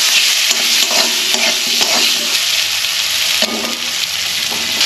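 Chopped tomatoes with salt and turmeric hitting hot oil with browned five-spice and bay leaf in a wok, a loud continuous sizzle with stirring scrapes throughout.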